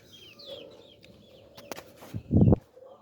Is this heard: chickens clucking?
yes